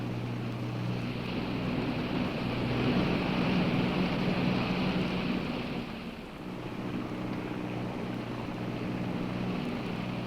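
Aircraft engines in a 1959 film drone steadily, a continuous low rumble with wind-like hiss that dips briefly midway and then carries on.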